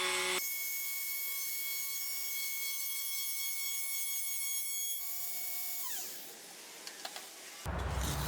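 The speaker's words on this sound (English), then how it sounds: "Use a router to cut a slot between the lines we marked for each shelf." Router cutting dado slots in a wood board for shelves, a steady high-pitched whine held for several seconds, then sagging as the cut loads it, ending in a burst of louder noise.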